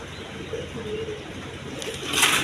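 Racer pigeons give a few soft low coos close by, quiet against background noise, ending with a brief brighter rustle.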